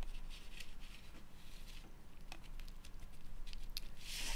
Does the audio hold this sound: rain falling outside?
yes